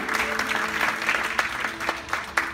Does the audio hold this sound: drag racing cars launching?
no